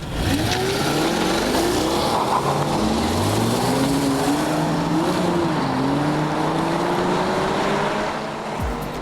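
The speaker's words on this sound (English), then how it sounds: "from Jaguar, we have the awesome S-Type R. It's a V8, it's supercharged" A supercharged V8 Jaguar S-Type R roars loudly as it accelerates, pitch climbing through several gear changes, with a steady throaty drone throughout.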